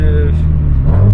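A Subaru WRX STI engine revs through a downshift with a loud, continuous low drone that swells and shifts pitch near the end, heard from inside the car.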